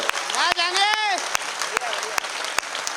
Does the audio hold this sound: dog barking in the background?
no